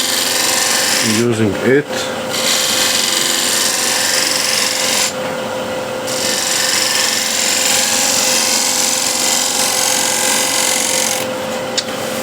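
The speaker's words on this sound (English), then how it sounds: "So what I have here is a spear point scraper." A spear point scraper shaves the surface of a large wooden bowl on the lathe, a steady rasping, scraping drone running throughout, with someone speaking briefly over it.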